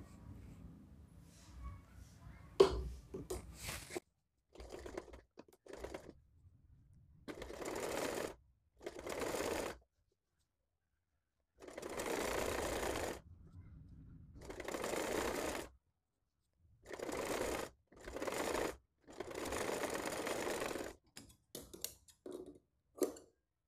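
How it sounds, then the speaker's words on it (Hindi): A domestic sewing machine stitches piping along the armhole of a girl's dress in repeated bursts of steady whirring and needle clatter. The bursts are separated by pauses with handling noise and soft quiet gaps. "ये जो हमारा जॉइंट है इसको दबाते हुए इसके ऊपर सिलाई लगाएंगे"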